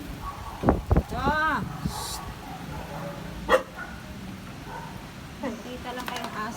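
Dogs bark in a rainy storm outdoors, giving a few close yips and barks along with some whimpering over a steady background hiss, while a person speaks nearby.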